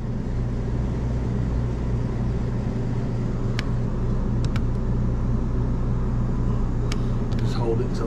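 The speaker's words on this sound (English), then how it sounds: "Can we turn the generator on? Yeah, fired up." A gasoline generator on a Class A RV hums steadily with a low, even drone, accompanied by a few faint clicks and light background noise.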